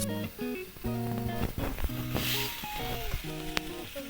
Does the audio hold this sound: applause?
no